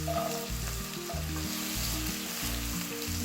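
Large chunks of onion and ginger sauté in hot oil for chicken vegetable pulao, a steady close sizzle with soft stirring scrapes and no voices.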